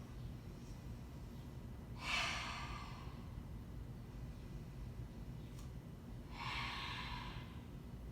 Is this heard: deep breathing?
yes